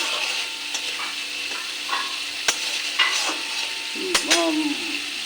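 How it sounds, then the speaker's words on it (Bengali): A frying mixture in a pan gets stirred with turmeric and salt, with steady sizzling and crackling oil punctuated by sharp scrapes and clinks of a utensil against the pan, close and without talking. "হলুদ আর নুনটা ভালো করে মিশে নিই"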